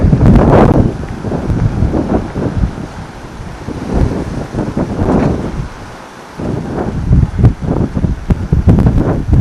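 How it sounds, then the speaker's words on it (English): Strong, gusting wind roars and buffets the microphone throughout, with a brief lull partway through before the rushing picks up again. "It keeps getting really windy."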